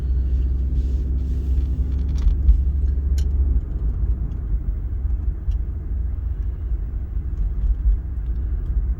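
A car drives along a road in Logan, West Virginia, heard as a steady, close, low rumble of engine and road noise from inside the vehicle, with no talking.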